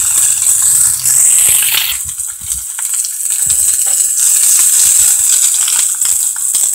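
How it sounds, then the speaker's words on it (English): A pork sausage patty sizzles in a pan over a hot hobo stove, a steady close crackling hiss with scattered pops and small rattles throughout. "You can see the pork sizzling along nicely."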